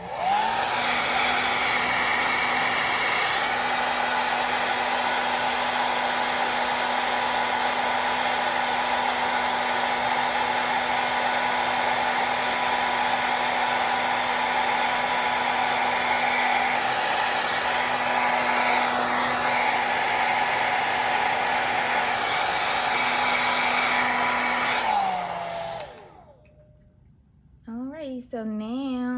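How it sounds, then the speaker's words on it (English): A hair dryer blows steadily with a constant whine and rushing air for most of the time, then switches off near the end, leaving quiet. "I'm gonna hold this down a little bit and then just turn my blow dryer"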